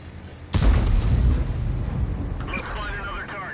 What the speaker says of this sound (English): You can see the IS-6 is already shooting at me.